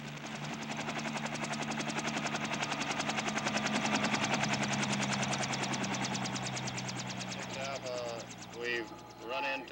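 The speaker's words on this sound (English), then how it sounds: "helicopter units make a surprise descent on suspect villages" Military helicopter rotors thump in a steady, rapid chop throughout as the helicopters descend on villages during the Vietnam War, loud and close, with a voice briefly audible near the end.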